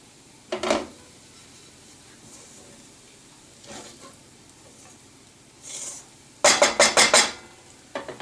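Poha cooking in a covered pan on a low flame, a faint steady hiss broken by clinks of a metal lid and utensil, then a loud burst of rapid scraping and clattering near the end.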